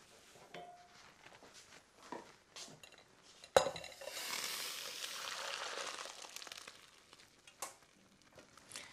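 Boiled Tilda rice drained from a pan: a sharp metallic clank of the pot, then a rushing pour of water through a strainer lasting a few seconds, with quieter clinks and handling before and after.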